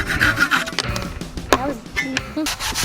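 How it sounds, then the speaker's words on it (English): Hand saw cutting through a wooden board for a simple birdhouse in a shop class, giving close, irregular rasping strokes mixed with bumps and handling noise while people talk nearby. "Hand saw. And we're gonna cut it right on this."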